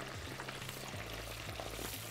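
Steady, dense sizzling and crackling of steak deep frying in oil at about 350 degrees, continuous and close, with a low bubbling undertone throughout.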